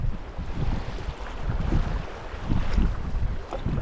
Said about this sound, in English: By late morning, the wind was starting to pick up and the water becoming choppy.